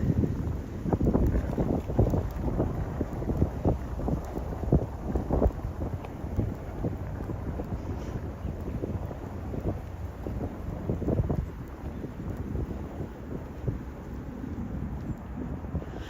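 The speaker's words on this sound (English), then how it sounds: "There goes the wind." Gusty wind buffets the microphone on a chilly New York City street, a steady low rumble with stronger bursts in the first dozen seconds, then easing slightly, with no talk.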